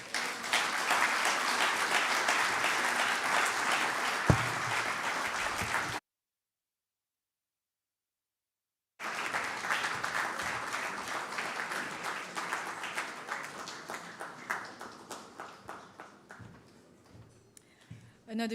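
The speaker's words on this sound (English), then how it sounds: "Another big round of applause" Sustained applause from a lecture audience after a keynote at an annual lecture event, dense clapping that breaks off into a brief silence, then resumes and gradually thins toward the end.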